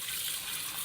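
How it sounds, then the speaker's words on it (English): Cold water running from a kitchen tap for rinsing raw chicken, a brief, steady, close hiss of flowing water. "make sure you're using cold water"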